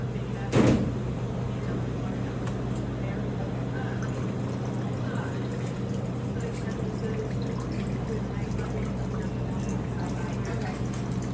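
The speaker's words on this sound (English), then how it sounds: "milk pours, water splashes" Water splashing and pouring steadily as the pump of an Electro Freeze soft-serve machine pushes it out of the system. A continuous wash of liquid noise with one brief knock near the start.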